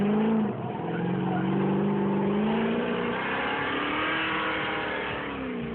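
A Nissan 350Z street car drifts with a loud, continuous engine roar that climbs and holds through sustained revving, with possible tyre noise blended into the steady close-up drone.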